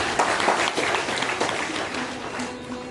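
An audience at a Hindi religious storytelling gathering claps together in a dense, continuous patter of applause that fills the short moment without a pause.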